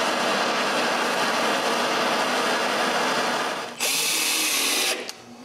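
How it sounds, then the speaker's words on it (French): A power drill drives screws to fasten air duct pipes and brackets to a workshop wall, one loud continuous whirring run near the mic with a brief higher-pitched burst toward the end, no voices. "Je peux maintenant visser les tuyaux au mur."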